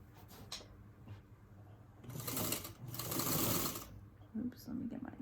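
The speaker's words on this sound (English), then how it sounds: "you're going to sew 1/4 inch on each side of the drawn line" A sewing machine stitches a quilt seam a quarter inch from a drawn line, producing a close, steady whirring run of about two seconds, with a person talking before and after and some fabric handling.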